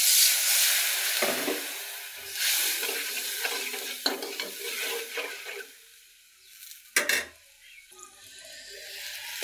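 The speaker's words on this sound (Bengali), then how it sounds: "এই যে দেখো মশলাগুলো কষানো হয়ে গেছে" Spices sautéed with a splash of water in a pan, a hissing sizzle under repeated scraping stirs, close by, fading toward a quieter stretch broken by a sharp clatter near the end.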